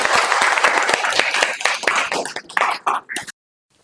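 A class in a law lecture bursts into dense, close applause that thins into a few scattered claps and then stops abruptly.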